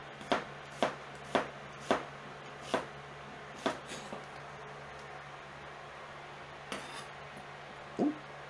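A knife chops food into quarter-inch pieces for chana masala, with about eight crisp, evenly spaced strokes on a board, a pause, then a few more scattered chops, all close and clear.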